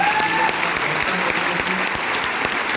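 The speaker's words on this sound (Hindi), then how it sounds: "पहले तो मैं चाहूँगा मैडम के लिए एक बार जोरदार तालियां।" Sustained audience applause fills a hall at a Vestige marketing plan presentation, a dense steady wash of many hands clapping at an even level throughout, with no talk over it.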